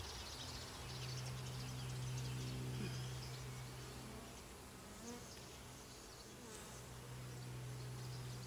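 Honey bees hum steadily around an open hive during an inspection of nectar and brood frames, a dense continuous buzz with a strong low drone near the microphone and fainter buzzing overhead, no talking.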